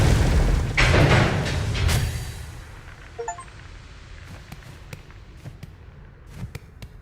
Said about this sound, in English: I don't want to get caught in that explosion.